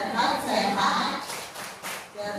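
A classroom group does the 'tepuk apa kabar' clap game, short bursts of rhythmic hand clapping mixed with voices chanting and talking over it.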